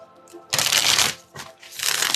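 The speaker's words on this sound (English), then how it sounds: "Katie, I'm just going to shuffle these cards up" Tarot cards being shuffled by hand, two loud riffling bursts with a short pause between them, close and bright, with no talking over them.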